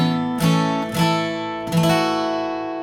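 Acoustic guitar strums three separate chords, the opening notes of Amazing Grace, each attack ringing out and sustaining; close, moderately loud and unaccompanied.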